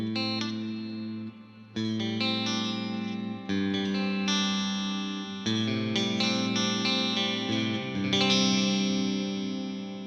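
An electric guitar played through the ML Sound Lab Amped Ark with an ambient effect rings out in sustained, shimmering chords and arpeggios, with lush modulation and a wash of reverb.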